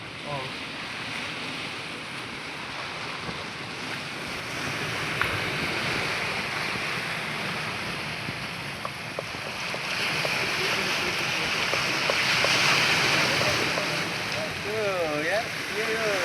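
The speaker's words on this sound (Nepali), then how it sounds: "समुद्र पानी पनि च्यापच्याप हुने यार" Sea waves wash and splash steadily along the Trieste coast in Italy, a continuous close surf with wind noise on the microphone, and a few voices come through faintly in the background.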